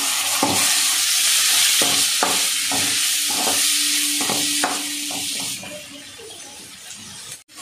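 Chopped tomato sizzles in hot oil as it is stirred into a home-style chicken masala for chicken kari dosai, with a steady frying hiss broken by repeated spoon scrapes against the pan, close and fairly loud.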